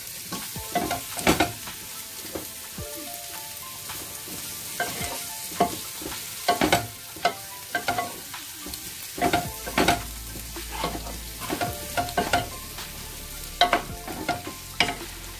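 Cubed potatoes are stirred with chermoula in a sizzling pan: a utensil scrapes and clatters in repeated irregular strokes over a constant close frying hiss, with no talk.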